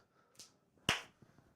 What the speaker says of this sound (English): I'm so sorry for the people with that clap.